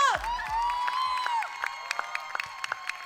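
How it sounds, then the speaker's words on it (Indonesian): A live stage audience cheers, whoops and claps for a magician on a talent show, with loud crowd noise and bursts of shouting that give way to scattered hand claps. "Tepuk tangan buat Adi Ucok."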